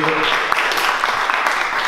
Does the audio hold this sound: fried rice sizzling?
no